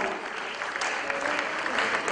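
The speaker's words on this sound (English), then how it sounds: "Another round of applause for the Vice Chancellor." Audience at a Ghanaian ceremony gives the university's Vice Chancellor a round of applause, a steady, fairly faint wash of many clapping hands with a murmuring crowd underneath.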